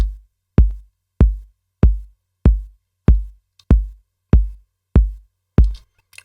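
A deep kick drum thumps ten times at a steady, even pace, each hit booming and decaying quickly into silence.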